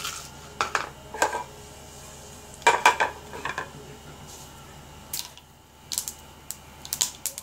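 Cumin, coriander and mustard seeds in hot oil give off scattered, faint crackles and sharp pops in small irregular clusters, quiet and close, with no talk heard.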